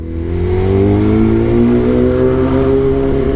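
A Kawasaki ZX10R sport motorcycle engine revs hard up close, a loud continuous roar climbing steadily in pitch for several seconds with no voices over it.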